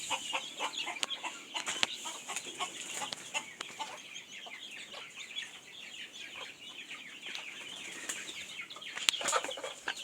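Jamaican game fowl, a rooster and hens, cluck and chatter in a quiet yard, with occasional sharp clicks and brief wing flaps, fairly faint and without speech.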